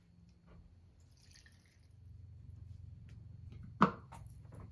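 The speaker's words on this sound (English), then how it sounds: "we're going to add 8 ounces of unsweetened cashew milk" Unsweetened cashew milk pours into a blender of dinosaur kale for a veggie and fruit smoothie, a short liquid splash near the end over a low steady background hum.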